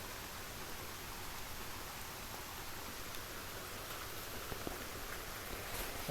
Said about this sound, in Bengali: এখন বৃষ্টি পড়তেছে, দেখতেই পাচ্ছেন এই যে বৃষ্টি পড়তেছে।